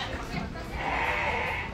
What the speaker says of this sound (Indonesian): Si kambing kan? Ibu-ibunya kambing.